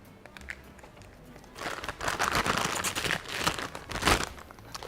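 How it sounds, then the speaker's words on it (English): Crinkling of a plastic piping bag as a hole is cut in it for a 4B star decorating tip, a close, rustling burst of crackle and snips that builds after a quiet start. "Cut a hole in the piping bag."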